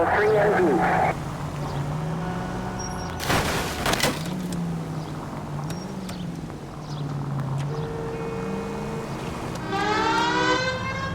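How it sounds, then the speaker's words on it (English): Police siren in the game LA Noire wailing steadily at mid distance, rising and falling in slow sweeps, with a burst of gunfire-like crackle partway through and a faster whooping siren near the end. "You know we've got a siren"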